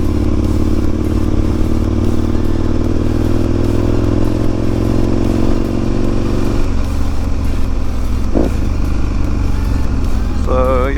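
Motorcycle running steadily with a constant loud engine drone throughout, shifting slightly partway as the ride continues on roads near Caragh in County Kerry, with wind rumble.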